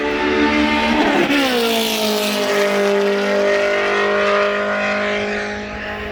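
Ford Mustang race car roaring past at speed on a road course during a track day, loud engine note swelling then dropping in pitch as it passes close by and fades down the track.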